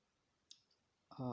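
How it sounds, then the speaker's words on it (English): A single soft computer mouse click sounds in a quiet room, followed by a faint tick, and then a person starts talking. "So I'll click on next."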